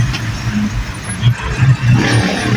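Road traffic on Arthur Highway in Bulacan, with passing cars and heavier trucks producing low engine rumble and a brief hiss like an air brake, fairly near and continuous, with no speech.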